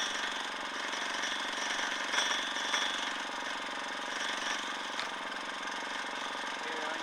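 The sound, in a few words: mini generator running an angle grinder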